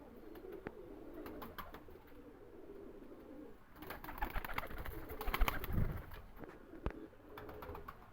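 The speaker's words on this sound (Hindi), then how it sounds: "दोनों नर है, खड़ी हड्डी के कबूतर हैं।" Male pigeons of a high-standing breed, a Magar pigeon and a Salara, cooing repeatedly in a low, throaty rhythm at close range, with light rustling and faint chirps in the background and no talk.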